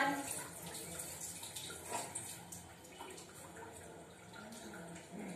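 Mains supply water runs from a tap into a container at home, a steady, fairly faint rushing and splashing that continues without a break.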